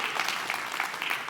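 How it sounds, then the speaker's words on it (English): An audience at a talk on resilience and zero-error culture bursts into steady applause, a dense wash of many hands clapping throughout, fairly loud and even, with no voices on top. "So I think you all deserve a round of applause."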